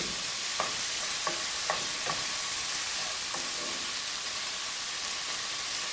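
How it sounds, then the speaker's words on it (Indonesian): Chicken frying in a pan is stirred, with a steady loud sizzle running throughout and several distinct scraping strokes of a utensil in a loose rhythm during the first half, heard up close with no talk. "Aduk terus ya."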